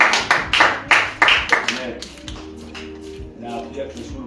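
Hand clapping in a Swahili-language church service, several sharp claps in the first second and a half, then fading under a speaking voice and low sustained tones.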